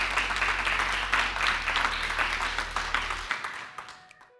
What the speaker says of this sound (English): Let's have another round of applause for Andrea